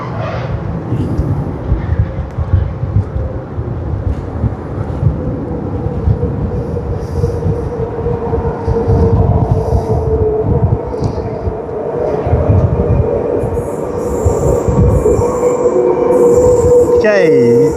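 An A-series electric train set rumbles steadily at Queens Park Station, close and loud, with rising wheel and motor tones and a brief squeal near the end.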